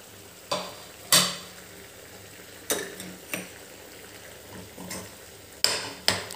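Mashed boiled potatoes get stirred into a simmering gravy for dhaba-style aloo bhaji, with a spoon scraping and clacking against the pot in a few separate strokes over a soft, steady bubbling.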